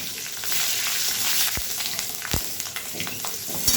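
Green chillies hiss and sizzle in leftover fish-frying oil in a kadai, a steady crackle broken by a few sharp stirring scrapes.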